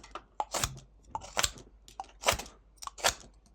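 A knife whittling wood with sweeping cuts: four crisp, close scraping shaves, each a short rasp about a second apart, with small taps and clicks between them and no talk.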